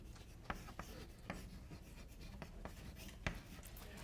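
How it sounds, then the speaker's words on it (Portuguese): Chalk or marker writing on a classroom board during a calculus lecture on series convergence, heard as faint scratchy strokes with a few sharper taps, quiet and close, with no talking. "esqueci de escrever o termo geral aqui."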